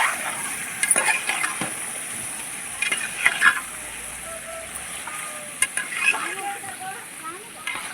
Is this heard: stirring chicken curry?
yes